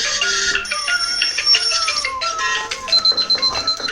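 A phone alarm goes off with a bright, repeating electronic melody of chiming tones that plays continuously and clearly, with no talking.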